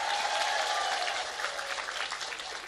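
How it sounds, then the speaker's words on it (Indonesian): Audience applause during a comedic Islamic religious gathering for Nisfu Sya'ban night, a steady dense wash of clapping that stays loud and even throughout with no voices on top. "Tepuk tangan disit kok."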